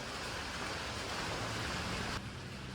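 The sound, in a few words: rain falling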